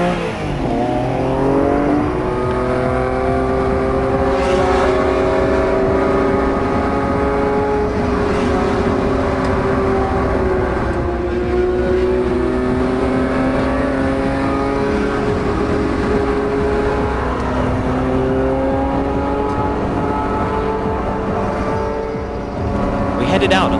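Highly modified Honda NSX cars running on Japan's Wangan Expressway, a loud sustained engine drone rising and falling as they rev and accelerate, with speech over the top.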